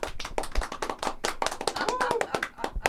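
A small studio audience claps for a guest on a French talk show, crisp separate hand claps in a brisk uneven patter, close and steady for the whole stretch, with a voice briefly heard underneath.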